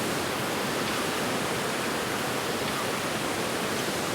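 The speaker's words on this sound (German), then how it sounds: "Ein wirklich schöner Fluss" A steady, broad rush of flowing river water fills the scene, constant and fairly loud with no pauses.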